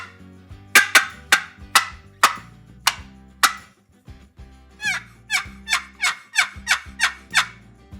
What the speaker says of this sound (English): You can also do some cuts and some clucks.